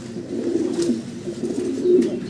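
Low, steady cooing from a pair of Shah King pigeons, repeated throaty coos close by that continue throughout with no speech.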